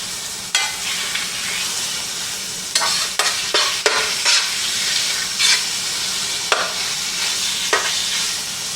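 Hamburger meat browns in a frying pan with a constant close sizzle, broken by repeated scraping stirs of a utensil against the pan.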